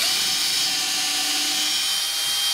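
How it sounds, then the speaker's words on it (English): A power drill boring pilot holes in wood while building a cow milking stanchion, a steady high-pitched whine held at even speed for the whole short stretch. "we're just gonna go ahead and drill 2 pilot holes"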